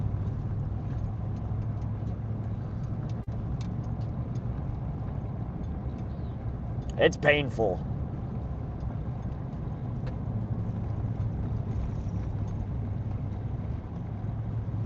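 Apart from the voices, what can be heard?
truck pulling boat trailer on dirt road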